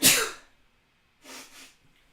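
A single loud, close sneeze from a man with a twisted septum bursts out sharply at the start, followed after a pause by a softer breathy sniff or exhale.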